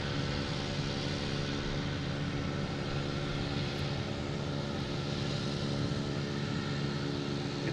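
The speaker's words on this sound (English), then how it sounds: "we have United Airlines coming in from Chicago, an A321neo, flight 1756" A United Airlines A321neo arriving from Chicago makes its landing approach at Boston Logan, a steady, broad engine roar that holds constant from start to finish at moderate distance.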